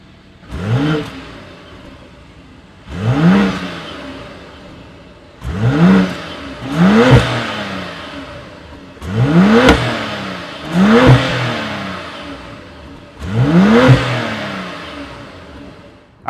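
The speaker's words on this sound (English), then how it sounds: "that was the sound of the really powerful B58 twin scroll turbo inline six-cylinder" A BMW X5's B58 twin-scroll turbo inline six-cylinder mild-hybrid engine is revved six times in a row, each sharp rise and fall clearly heard with short pauses between, no talking over it.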